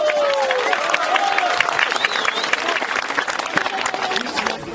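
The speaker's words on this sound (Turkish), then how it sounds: "Bütün işçilerimiz, emekçilerimiz kocaman bir alkışlayalım." A crowd at a May 1 Labour Day gathering by the Melen river in Turkey, during a rafting event, breaks into loud, sustained clapping, with voices and shouts mixed in throughout.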